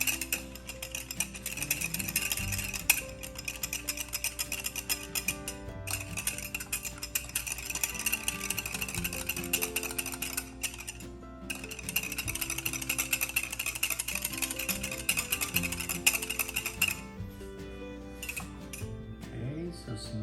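Long skinny whisk beating a runny vegan no-bake cheesecake mixture, a continuous fast rattling clatter against the bowl that pauses briefly a few times before fading near the end.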